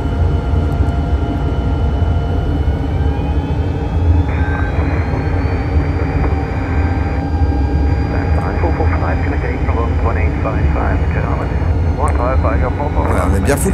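Pilatus PC-21 on landing approach in Microsoft Flight Simulator, a loud, steady propeller-turbine drone with shifting engine tones throughout, while someone talks over it.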